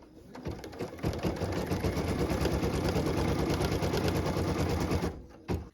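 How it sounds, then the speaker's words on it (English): Embroidery machine stitching a tack-down line on a quilt block in a hoop, a loud steady rapid mechanical chatter running continuously for several seconds before stopping, then a brief final burst. "What I'm stitching now is the tack down line for piece number 2."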